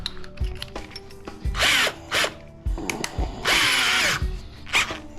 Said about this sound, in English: Just take a drill bit,